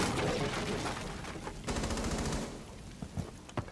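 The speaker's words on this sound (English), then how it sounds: "Yeah, I'm shooting through a hatch." Rapid automatic gunfire in Rainbow Six Siege, fired through a hatch: dense bursts of shots fill the first half, then a few sharper separate cracks follow near the end, loud and close.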